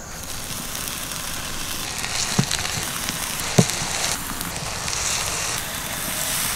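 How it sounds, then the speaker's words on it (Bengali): Eggplant slices fry on a lightly oiled tawa, giving a steady, soft crackling hiss broken by a couple of sharp clicks. "একসাথে অনেকগুলো বেগুন ভাজা যাবে বলে আমি এই তাওয়াটা ব্যবহার করেছি"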